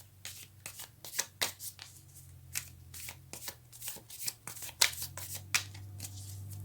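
A card is drawn from a deck of cards. Soft, close riffling and shuffling clicks with uneven bursts of crisp paper snaps run under a low steady hum.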